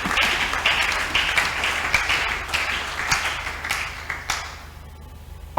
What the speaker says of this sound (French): Applaudissez pour les To Seigneurs